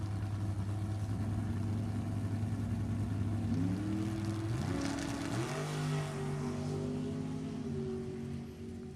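Engine of Tom Hall's 04 Mullis chassis dragster at a drag race. It idles with a steady drone, then climbs in stepped revs midway and holds a higher, louder note close by.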